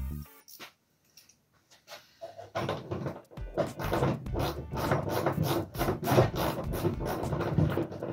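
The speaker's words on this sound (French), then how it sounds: "Et puis là, on peut terminer avec une clé." A wrench tightens a nut on a velomobile's front suspension. Faint handling noises give way to steady, close, rapid scraping clicks that keep going for several seconds, with no speech.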